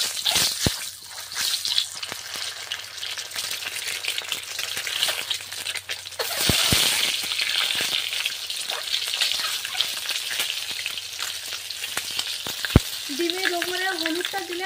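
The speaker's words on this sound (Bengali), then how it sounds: "তেলটা কিন্তু ভালোভাবে গরম হয়ে গিয়েছে, এবার আস্তে আস্তে ডিমগুলো ভেজে নেব।" Eggs fry in well-heated oil in a pan in a Sundarbans home kitchen, a loud, continuous close sizzle with crackling spits and occasional sharp utensil taps against the pan.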